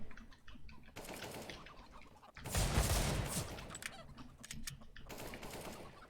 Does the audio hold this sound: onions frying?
no